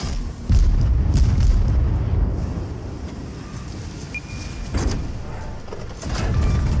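Explosion of an enemy cruiser hit by torpedoes in the naval game World of Warships, a heavy low boom followed by rumbling blasts and wind-like roar, with a second thud later.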